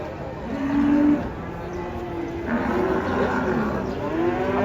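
Feisty cattle being unloaded from a truck at Pasar Pon market low loudly in long drawn-out moos, several overlapping over a busy outdoor background.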